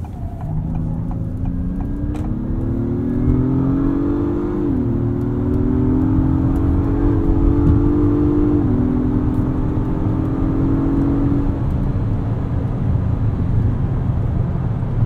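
A 2022 Acura MDX Type S accelerates hard from inside the cabin, the engine note rising steadily through gears with brief dips at shifts, loud and continuous over road roar, no talking.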